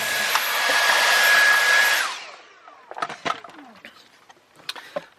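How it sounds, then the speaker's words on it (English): A drill cuts holes in a Sprinter van for a diesel heater install, with a loud two-second burst of grinding noise that stops abruptly, followed by scattered clinks and rattles close by. "So I'm going to drill this"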